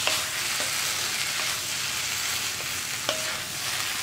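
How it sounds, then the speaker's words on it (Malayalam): Chinese potato (koorka) and egg stir-fry sizzles loudly in a pan while a spatula stirs and scrapes, with a few crisp knocks against the pan. "ഇനി നന്നായിട്ടൊന്ന് ഇളക്കി മിക്സ് ചെയ്തെടുക്കാം"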